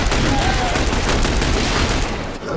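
Dense gunfire from the third-person shooter game The Bureau: XCOM Declassified, a loud, continuous crackle of rapid shots and impacts that thins out and fades near the end.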